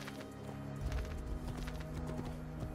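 A horse in the video game Assassin's Creed 2 trots with steady, rhythmic clip-clop hoofbeats alongside a faint whinny, set against a game soundscape with a low background hum.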